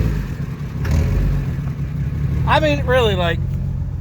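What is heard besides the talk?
Jeep engine running with no motor oil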